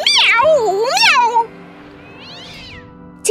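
A storyteller's voice imitates a cat in a Turkish children's fable about a fox and a goat, giving two loud, close, drawn-out meows with rising and falling pitch, followed by quiet.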